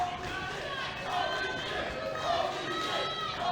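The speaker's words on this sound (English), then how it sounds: "And you hear the crowd in Birmingham, Alabama" A wrestling show crowd in Birmingham, Alabama roars and chatters in a steady wash of noise with swelling cheers. A commentator talks over it.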